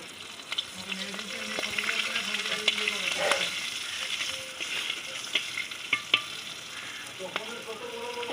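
Green chilies, whole garlic and nigella seeds sizzle steadily in hot oil in a pan, with scattered clinks and stirring scrapes over a constant frying hiss.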